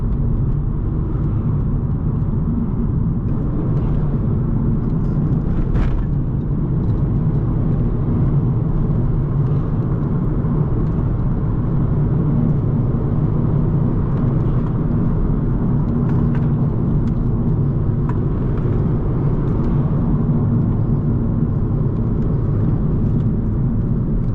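A car with a 1.4 TSI engine drives at speed, a steady loud rumble of engine and road noise from inside the cabin that stays constant throughout, with no talk.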